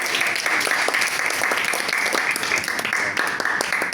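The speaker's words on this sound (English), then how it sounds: "let's give a big round of applause to our general evaluator" Steady, full audience applause at a Toastmasters club meeting of Brunei Speakers' Club, many people clapping continuously and fairly loud throughout, without any voices over it.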